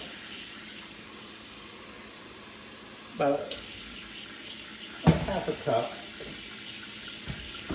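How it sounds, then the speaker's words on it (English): Water runs briefly from a tap into a pot of green tomato jam ingredients, a short splashing pour beneath a quiet voice, with faint kitchen background noise. "And then we'll go in with just a little bit of water"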